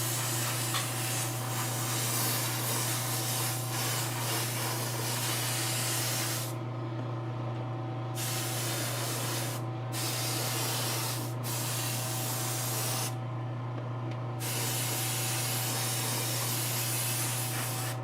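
An airbrush at about 35 PSI sprays paint onto a Wonder Woman statue with a continuous close hiss, broken by several short pauses as the trigger is released, over a low steady compressor hum.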